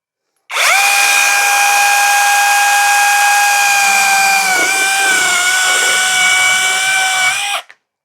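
A small electric chainsaw with a narrow chain and no on-off switch cuts through wood, a loud, high-pitched motor whine that starts abruptly, dips briefly as it bites into the wood, then stops sharply.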